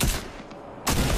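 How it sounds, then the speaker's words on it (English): Two loud broadband blasts of video game gunfire, one opening the moment and another after a brief lull, close and harsh with no talking. "Oh, I got shot!"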